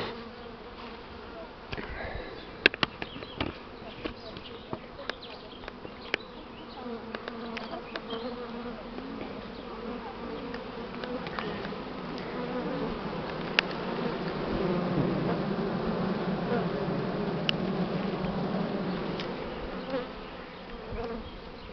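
Swarm of honey bees buzzing around a hive high in a pear tree, a steady dense hum that swells louder in the second half, with scattered sharp knocks and clicks close by.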